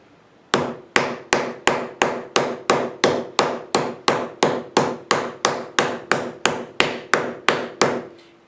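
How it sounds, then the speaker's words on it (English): A large hammer strikes sheet metal being bossed into a curve, about twenty loud, evenly spaced ringing blows in a steady rhythm, alone without talk. "I'm going to pick my largest hammer and I'm going to strike across the center."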